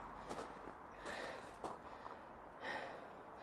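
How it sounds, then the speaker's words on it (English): Faint, heavy breaths come in several breathy bursts, close to the microphone, over a quiet outdoor hush at Eilean Donan Castle. "Sorry about the heavy breathing."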